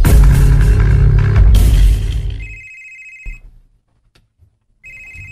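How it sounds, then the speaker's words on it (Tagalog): A cellphone rings with a loud, busy melody that stops abruptly, followed by quieter repeating electronic ring tones with a pause between them. "Ang akong cellphone."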